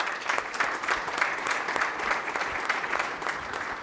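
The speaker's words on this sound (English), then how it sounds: "a big round of applause to our panelists" Dense, steady applause fills the room as a conference audience at the V4 Business 2024 artificial intelligence panel claps for the panelists, holding an even level throughout with no voices rising above it.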